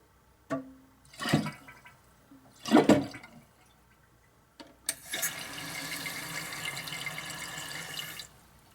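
Water rushes steadily into a toilet tank through a newly installed fill valve, a continuous hiss and gurgle lasting several seconds, preceded by a few short bumps and splashes of handling the tank parts.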